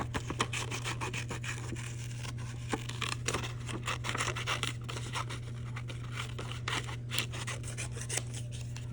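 Scissors cutting paper mitten shapes for a children's craft, a steady run of crisp snips and rustling paper heard close over a constant low hum.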